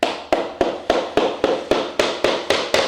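A pounding tool taps a laminate flooring board into place with about ten sharp, evenly spaced knocks, close and crisp, with no talking.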